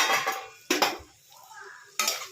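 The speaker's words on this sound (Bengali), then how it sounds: "আমি থালাটা নামিয়ে নিলাম।" A metal plate clatters as it is lifted off a frying pan of potato and pointed gourd, with sharp clanks at the start, again after a pause, and once more at the end.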